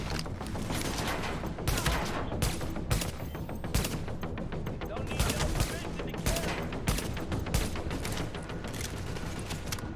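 Dense, rapid gunfire from The Division, loud bursts of automatic shots with a few single cracks, almost continuous across the scene, with speech faintly mixed in.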